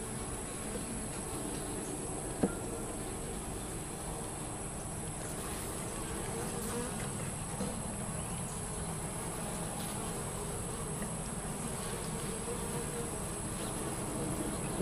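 A swarm of honeybees in a top-bar hive setting gives off a steady, continuous buzzing hum throughout, with one brief sharp knock near the start and no talking.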